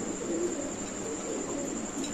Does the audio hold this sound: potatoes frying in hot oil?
no